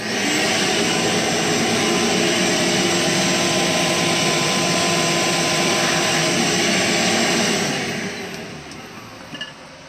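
A shop vacuum fitted with a Dust Deputy cyclone separator roars steadily and loudly at close range, a broad constant whoosh, then cuts off near the end and winds down into quiet.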